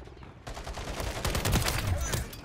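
Rapid battle rifle gunfire in Call of Duty: Modern Warfare, a loud burst of closely spaced shots that kicks in suddenly and keeps firing steadily, with game sounds and some talk blended underneath.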